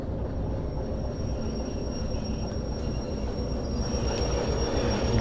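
Locomotive rolling on rails in the Derail Valley train simulator as it slows under braking, a steady loud rumble of wheels on track with a faint high squeal running through it, no talk.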